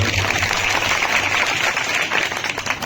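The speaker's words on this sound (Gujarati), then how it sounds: "પ્રદીપસિંહ બાપુ માટે એકવાર જોરદાર તાળી પાડી દો સાહેબ" Audience at a Gujarati comedy stage show applauding Pradipsinh Bapu, with dense steady clapping from a crowd lasting the full length.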